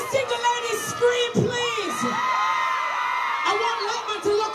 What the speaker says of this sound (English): All the single ladies, scream,